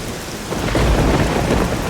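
Thunder rumbles through steady heavy rain during a thunderstorm with lightning in the video game Soul, building to a loud, close crash in the second half with no talk.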